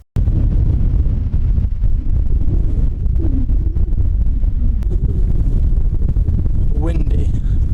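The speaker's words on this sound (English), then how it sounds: "Windy." Strong wind on a Cornwall coastal path near Tehidy Woods batters the microphone with a loud, continuous low roar and buffeting. A brief voice is heard near the end.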